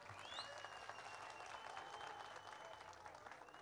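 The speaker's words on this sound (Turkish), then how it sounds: "Alkışlar mıyız?" A crowd at an outdoor picnic area gathering applauds, a faint, distant, continuous patter of many hands with a little background crowd noise mixed in.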